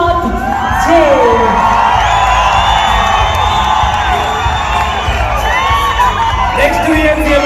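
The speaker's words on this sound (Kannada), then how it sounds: "ಜೋರಾದ ಚಪ್ಪಾಳೆಯೊಂದಿಗೆ ಬರ್ಮಾಡ್ಕೊಳ್ಳೋಣ" Large crowd at an award function at Bengaluru's Palace Grounds roars with sustained loud cheering, whoops and shouts, a dense continuous wall of noise that swells throughout.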